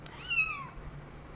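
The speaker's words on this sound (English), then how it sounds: "if you are hearing really tiny kitten noises, that's because I have some guests with me today while filming the video" A single thin, high meow from a tiny kitten, faint and nearby against a quiet room hum.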